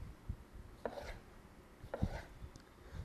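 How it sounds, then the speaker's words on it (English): A sharp Japanese knife slices raw fish into strips on a board, giving a few soft, close cutting strokes with light thuds spaced about a second apart, and no talking. "we're going to slice the fish down the end like this. We make little strips."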